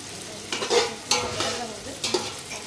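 Mutton fries with bay leaf and whole spices in a pan, a steady sizzle broken by three scraping stirs of a spoon, close and fairly loud.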